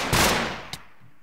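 A single loud gunshot from a gun in a Minecraft Titanfall mod cracks out and decays, followed by a sharp shorter report, close and alone.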